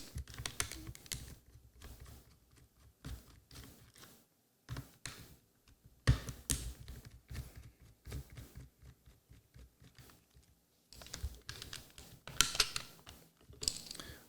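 Small screws being backed out of a PSP 3000 handheld console with a screwdriver, giving quiet, irregular clicks and ticks that come in short bursts with brief pauses, close up and faint.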